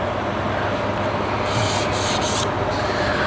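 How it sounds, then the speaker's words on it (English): Sealer on a painted car bumper is scuffed by hand with an abrasive pad, a steady, loud, close rasping rub that continues without a break. "Sometimes I'll just scuff over the whole thing."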